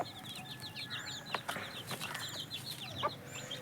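Young parent-stock chicks roam a farm pen, their many high cheeping peeps overlapping continuously with occasional louder calls and faint rustling throughout.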